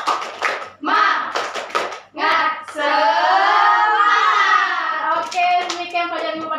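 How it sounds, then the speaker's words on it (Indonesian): A class of students in a school lesson claps out a rhythmic spirit-clap pattern in quick bursts, sharp hand claps interleaved with voices chanting and singing along, close and lively. "Jadi tepuk semangat itu kayak gini"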